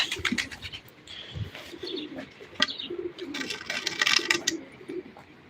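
Pigeons coo and flutter close by as birds are handed over and released to fly, with scattered chirps and wing sounds over a busy outdoor background.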